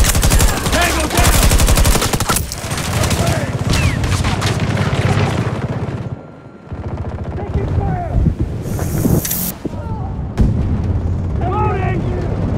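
Heavy, sustained gunfire in a Battlefield 2042 combat match on the Hourglass map: dense bursts of automatic weapons and loud blasts over continuous battle noise, with a brief lull midway before the shooting resumes, voices calling out in between.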